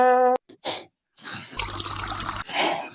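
Seven Up soda mixed with liquor being poured, a liquid trickle and splash lasting about two seconds after a brief tone and a short pause.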